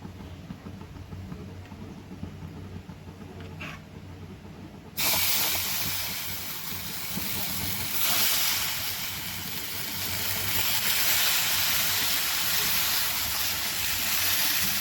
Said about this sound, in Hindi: तो अब कढ़ाई गरम हो गई है, तो अब थोड़ा सा ऑयल डाली हूँ मैं